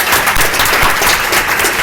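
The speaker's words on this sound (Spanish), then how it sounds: "así que también un aplauso para ustedes." Dense, loud audience applause at a talk, a continuous wash of many hands clapping close by without any voices on top.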